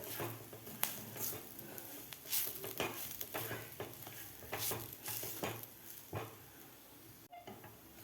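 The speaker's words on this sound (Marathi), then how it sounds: "आता आपल्याला हे दोन ते तीन मिनिट आपल्याला हे व्यवस्थित परतून घ्यायचं आहे" Modak filling of jaggery and coconut with saffron milk and nuts being sautéed and stirred in a pan, with a steady soft sizzle and repeated scraping stirs close by, no talking.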